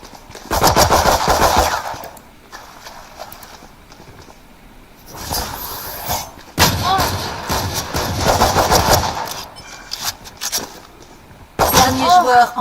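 Gunfire in a video game shootout, with loud rapid automatic bursts coming in separate volleys between quieter gaps, and voices talking over parts of it.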